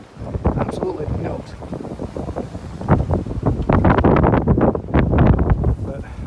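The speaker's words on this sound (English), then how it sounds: "it is crazy wind here, guys" Strong gusts buffet the microphone in loud, irregular bursts of rumbling wind noise, building in intensity toward the end, with no clear speech.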